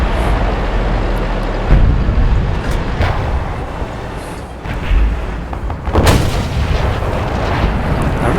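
Booming cannon shots from a KV-1 tank in a tank battle video game, several heavy blasts over a steady engine and ambient rumble, with one especially sharp, loud report near the end.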